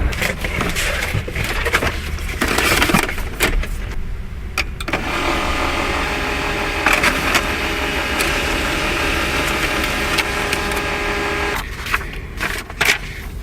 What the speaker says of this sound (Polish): Posiadanie drukarki w kamperze jest bardzo przydatne.